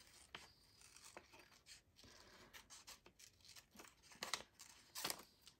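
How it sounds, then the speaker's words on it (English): Scissors snipping small bits of paper off a handmade envelope: a quiet, close series of short crisp snips and light paper rustles at irregular intervals, with a few sharper cuts near the end. "Oh, I'll just snip off those little annoying bits, as you know."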